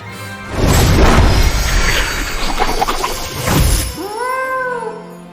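A cat in the video game Hogwarts Legacy, first a burst of loud clattering, crashing game noise, then two or three clear, close meows near the end.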